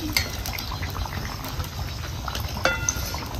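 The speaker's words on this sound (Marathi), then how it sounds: "आता ह्या बाजूने चांगलं आपल्याला भाजून घ्यायचं. असं ही वडं आपलं भाजून झालेलं येतं." Vada fritters for vada pav fry in hot oil, giving a steady close bubbling sizzle with scattered pops and a brief crackle near the end, with no talk.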